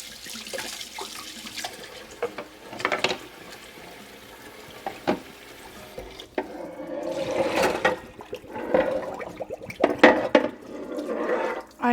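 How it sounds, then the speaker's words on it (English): A pan that was used to brown meat is washed in a kitchen sink, with intermittent bursts of running water, splashing and scrubbing close by. Quiet gaps fall between the bursts, and the water grows louder toward the end. "All right, let me wash that pan."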